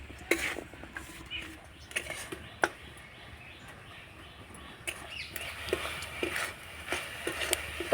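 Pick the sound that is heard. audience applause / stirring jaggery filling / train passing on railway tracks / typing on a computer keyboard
stirring jaggery filling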